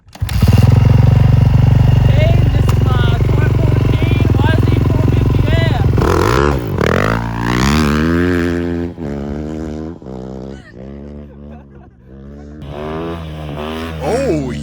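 A supercharged 2018 Toyota 4Runner TRD Off-Road with a Magnuson supercharger and aftermarket air intake, its engine droning loudly and then revving hard in rising and falling surges, with voices talking over it.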